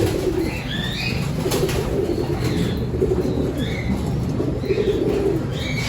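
Homing pigeons back at the loft after a training flight from Padre Burgos, Quezon, coo and call steadily amid constant outdoor background noise, with a few brief wing flutters and no voices.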